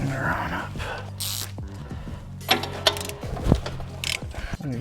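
An impact wrench drives a rear suspension bolt tight on a 2020 Toyota GR Supra during a coilover spring install. Short whirring, ratcheting bursts come up close, separated by brief pauses and followed by a few sharp metallic clicks.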